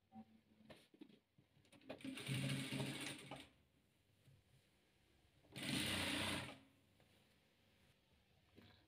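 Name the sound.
sewing machine stitching patchwork rows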